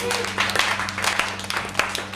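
Audience at the close of a three-day marathon of live music shows gives scattered clapping, a thin, fairly quiet patter of individual claps that continues steadily throughout.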